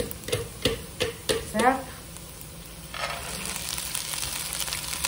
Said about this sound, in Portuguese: agora nós vamos jogar as lentilhas que eu escorri